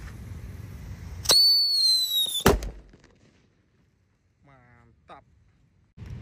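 Whistling Sweeter firework, set off outdoors during a Ramadan evening fireworks session: a loud, high, falling whistle lasting about a second ends in a sharp bang, followed by a quieter pause and faint brief talk.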